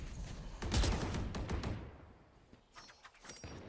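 Shotgun blasts and Sheriff pistol shots ring out in a Valorant esports match between PRX and ZETA, a dense burst of loud gunfire up front that trails into scattered, quieter shots and clatter.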